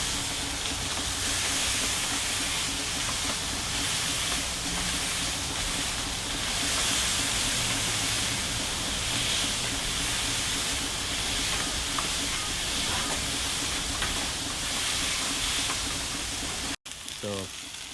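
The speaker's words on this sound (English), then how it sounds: "My burger's going and some of the bacon grease." Thick burger patties and bacon in their grease sizzle loudly on a Blackstone griddle. The hiss is steady, close and continuous for the whole stretch.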